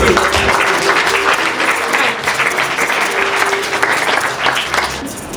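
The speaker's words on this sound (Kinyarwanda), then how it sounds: "Mwahaye iyo Mana amashyi" Sustained applause from a crowd at a school ceremony, dense and loud clapping that carries on without a break.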